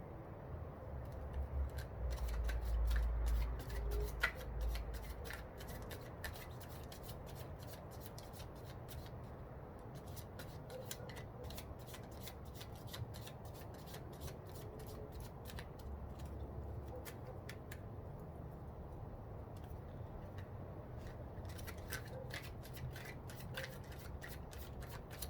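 Tarot cards are shuffled by hand in a long, continuous stretch of soft rustling and rubbing, quiet and close, with no talking.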